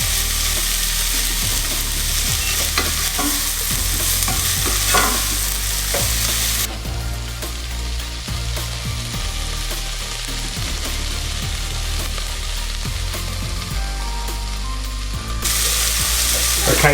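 Peppers softening in a frying pan for Mediterranean fish soup, a loud continuous sizzle with scraping and stirring clicks, holding steady for the whole stretch with no talking.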